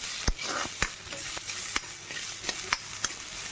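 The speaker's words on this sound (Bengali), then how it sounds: "আমার উচ্ছেটা ভাজা ভাজা হয়ে গেছে এখন আদা বাটাটা দিয়ে দিয়েছি" Bitter gourd and ginger paste fry in an iron wok, a soft sizzle broken by about eight sharp, close metallic clicks and scrapes of a spatula stirring at uneven intervals.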